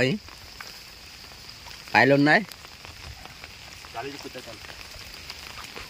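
Rain falls on a village pond on a rainy day, a steady close hiss of drops running throughout, with someone speaking briefly over it.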